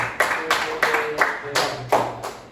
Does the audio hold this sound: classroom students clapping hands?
yes